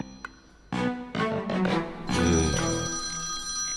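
An electronic telephone rings indoors with a bright, repeating melodic trill that starts after a brief pause and continues steadily, close and clear.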